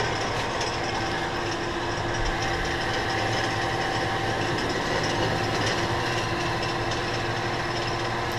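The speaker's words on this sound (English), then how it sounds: "Very rapid threading operation with that die head, a J&L die head." Hardinge DSMA automatic lathe threading a vintage Ford part with a J&L die head, a loud, continuous machine drone with a steady hum and faint metallic whine throughout, no voices.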